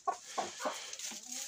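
An Ameraucana hen in a henhouse clucks in a quick run of about four short, close clucks, followed by softer murmuring over a low background hiss.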